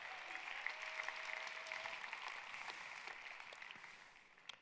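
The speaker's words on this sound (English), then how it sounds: "So give them a clap." A conference audience applauds at the Nutrition Plus event, a steady wash of clapping heard from some distance that gradually fades out toward the end.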